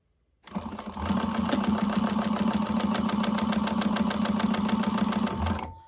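Sewing machine running a 3/8-inch gusset seam on a zippered bag, starting abruptly then humming with a fast, even needle rattle for several seconds before stopping, close and alone.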